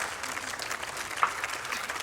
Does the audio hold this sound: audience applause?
yes